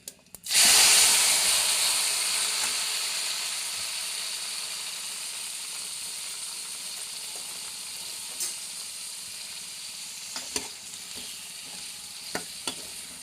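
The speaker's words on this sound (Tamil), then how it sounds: "இது கொஞ்சம் எண்ணெயிலே வதக்கிட்டோம்" Eggplant curry ingredients sautéing in oil in a pan: a sudden loud sizzle that starts near the opening and slowly settles into a steady hiss, with a few light clicks of stirring later on.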